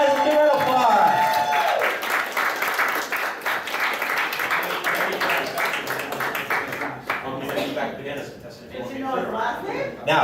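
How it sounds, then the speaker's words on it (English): Convention crowd at an anime game show applauds a contest winner, dense clapping and cheering filling the room for about ten seconds, with voices mixed in and thinning toward the end. "Come on, guys, give her an applause."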